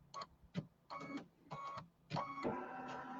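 An embroidery machine stitches a design in a 5x7 hoop, making a run of short, sharp mechanical bursts, with rapid clattering stretches broken by brief pauses, close by and fairly quiet.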